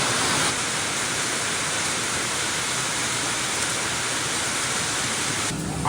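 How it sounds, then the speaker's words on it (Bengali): Steady, even rain hisses continuously at moderate volume, a dense wash of noise with no voices and little change throughout. "বৃষ্টিটা এখন একটুখানি ছেড়ে গেছে"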